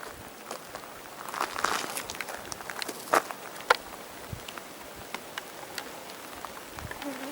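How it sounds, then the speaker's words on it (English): Rain falling in hot outback country near Laverton, Western Australia, a steady soft patter of drops with a few sharper nearby splats, fairly faint and continuous with no talk. "Nice cool raindrops."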